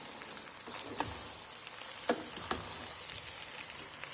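Rice and vegetables fry in a pan for riz gras au poulet, a soft steady sizzle broken by a few sharp scraping stirs and clinks, fairly quiet and with no voices.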